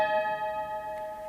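Sustained piano tones of an E and an A held together, ringing steadily with a soft decay, played alone as the opening notes of a song.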